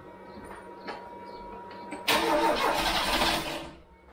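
Ford Cortina MK3 with a newly installed Pinto engine and uncertain cam belt timing cranks with a faint whir, then bursts into a loud rough attempt to fire for over a second before fading.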